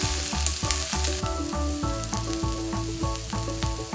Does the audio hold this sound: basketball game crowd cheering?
no